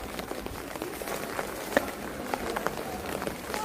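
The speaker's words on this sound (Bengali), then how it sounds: "বৃষ্টি বিকেল।" Steady rain falling on an afternoon, a continuous patter with scattered sharper drips and drops hitting surfaces nearby, moderately quiet and without voices.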